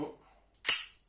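A single sharp crack from a Swiss Arms Colt SA1911 Military tan CO2 4.5mm airsoft pistol, close by, fired at a target about two metres away and followed by a brief ring that fades.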